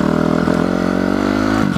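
An enduro motorcycle engine revs close by, a loud, steady buzzing drone with a rhythmic pulse that dips briefly near the end.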